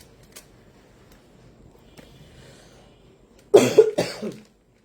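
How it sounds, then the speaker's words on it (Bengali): A woman with a two-day cough lets out a short burst of loud, close coughs near the end, after a quiet stretch of faint room noise. "সরি আমার খুব কাশি হয়েছে আজকে দুই দিন ধরে"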